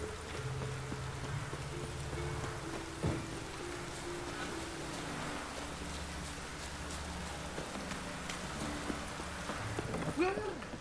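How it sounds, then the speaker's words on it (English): Rain falls across a city in The Witcher 3 video game, a steady close patter under low musical tones, with a horse's hooves clopping faintly in the background. "Looked like it would rain, and here it is."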